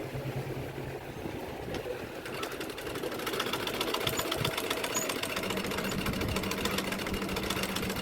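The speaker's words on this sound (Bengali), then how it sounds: "একটা জামা সেলাই করাচ্ছি" A sewing machine stitches a dress at a tailor's shop, running with a fast, steady mechanical whir and rattle that picks up after a brief quieter start, moderately loud and without speech.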